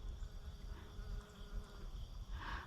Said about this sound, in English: Every time I pass through, there are bumblebees and honeybees making sure that they get